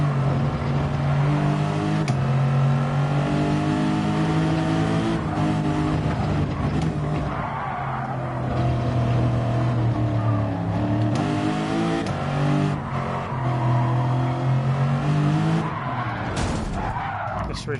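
A race car engine at full throttle at the Nürburgring in a video game roars steadily throughout, with sustained high revs, shifting pitch through gear changes and tyre skids, loud and constant.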